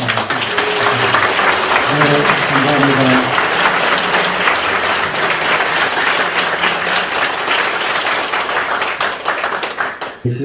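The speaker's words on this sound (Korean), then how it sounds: "우리 박수 좀 한번" Loud applause fills a Catholic church during a 57th anniversary Mass, honoring a Korean traditional-music choir and a parish choir, with steady clapping throughout while a voice speaks briefly near the start.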